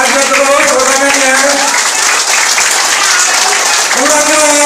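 Loud, sustained audience applause at a village program socialization event, continuous dense clapping throughout with a tonal voice or music layer over it.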